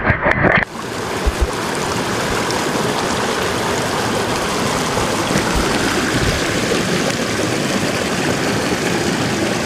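A creek at the back of a rural off-grid property in California flows with a steady, loud, broadband rush of water, close by and continuous after a brief bump at the start.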